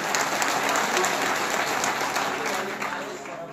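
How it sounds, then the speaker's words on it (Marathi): A large crowd at a temple anniversary ceremony claps loudly and densely, a steady wash of applause that holds for a few seconds before easing slightly at the end. "सर्वांनी वरती हात करून जोरदार टाळी वाजवून आपण या ठिकाणी अभिनंदन करू"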